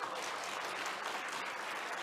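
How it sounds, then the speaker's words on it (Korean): Congregation applauding inside a church during a Sunday service, a steady dense wash of clapping from many hands, fairly distant and even throughout with no voices over it. "박수 한번 해주세요."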